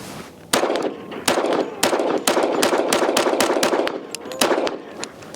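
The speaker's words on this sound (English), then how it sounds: "But shooting some, I believe these are 230 grain 45 ACP, and let's see how the first 10 rounds go." A Kimber Rapide 1911 pistol fires 230 grain .45 ACP rounds at about seven yards: a string of roughly ten loud, sharp outdoor shots in a fairly steady rhythm, each with a short ringing tail.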